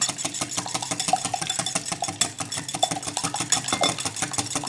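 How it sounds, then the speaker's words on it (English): Whole room-temperature eggs beaten with a wire whisk in a bowl, a fast steady rattling clatter of metal wires against the bowl, close and continuous with no talking. "And I'm going to beat these."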